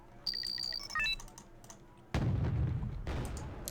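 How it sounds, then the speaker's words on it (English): Challenger tanks fire in Wargame: Red Dragon, with two heavy booming blasts that each spread into a long rumbling tail, following a few sharp electronic beeps from the game interface. "Chieftains are firing right away. Challengers, rather."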